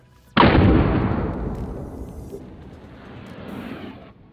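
A single loud report from a traumatic pistol firing rubber bullets, booming close by and decaying slowly over several seconds, with no speech.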